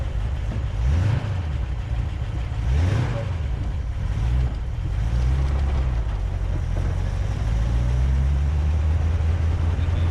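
A 1932 Ford Roadster engine runs steadily on the road, its low rumble rising and falling in pitch as the clutch lets out, loud and continuous with no talking.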